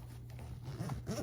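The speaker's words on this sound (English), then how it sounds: "Let's zip her right up." A zipper is drawn closed around a Sennheiser Momentum Wireless headphone carrying case, a soft, quiet continuous rasping zip lasting about a second with slight ripples in its texture, heard up close without talking.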